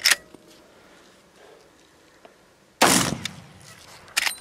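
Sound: gunshot from a firearm

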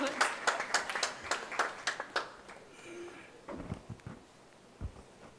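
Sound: applause

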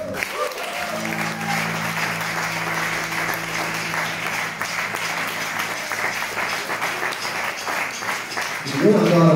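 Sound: audience applause at a concert

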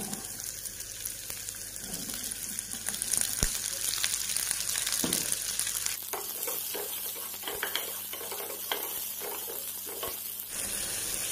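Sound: onions frying with garlic in a pan for sausage recipe

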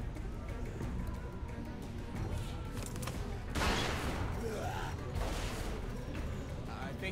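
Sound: gunshots from Vince's gun, from the video game The Walking Dead

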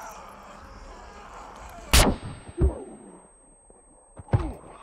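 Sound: shotgun firing in the video game SCUM

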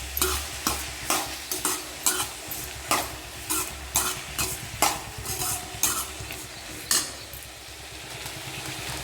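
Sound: vegetables being sautéed and stirred in pan

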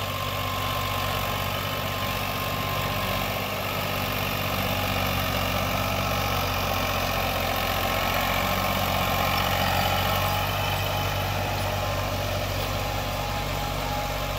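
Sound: tractor engine idling with rotavator attached in field

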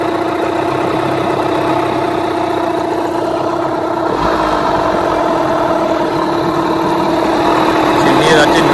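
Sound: Yamaha 9.9/15hp outboard engine idling during tuning

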